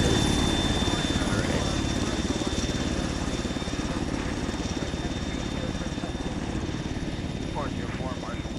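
Helicopter in the Arma military simulation game, a steady, loud rotor thump with a constant engine hum inside the cockpit, with a voice talking over it.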